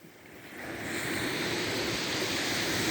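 Sea waves wash continuously onto a sandy island beach, a steady broad roar of surf that swells slightly louder after the first half second, with some wind noise and no talking.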